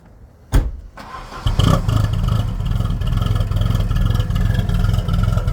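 A 1986 Volvo turbo wagon with a B230F red block four-cylinder cranks and catches with a sharp burst, pauses briefly, then settles into a loud, steady, slightly clattery idle with light revving, close by and with no talk.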